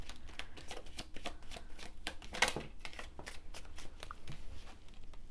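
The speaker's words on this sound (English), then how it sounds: "I'm going to make sure my cards are shuffled." Tarot cards are shuffled over and over, a rapid papery riffling and flicking that stays close and quiet and repeats in a steady rhythm.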